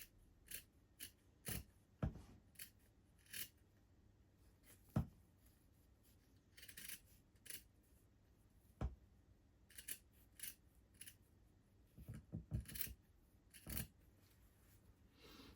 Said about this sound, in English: now I'm going to trim each side of that as close to the stitches as I can